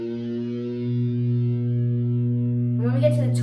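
Electric guitar with effects held on a sustained distorted note, then a whammy bar bend near the end that swoops the pitch up and back, imitating a cow's moo; played alone with no talking.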